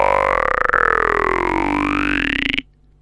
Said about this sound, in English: now I've put a Formant filter on it